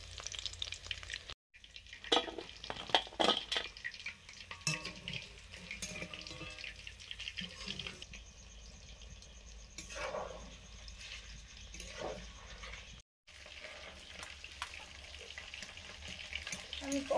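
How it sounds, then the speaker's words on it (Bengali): Desi chicken pakoras fry in oil in a pan, a continuous crackling sizzle with occasional stirring and clinks, fairly close, broken by two brief silent gaps. "আমি পকোড়াগুলো ভাজছিলাম"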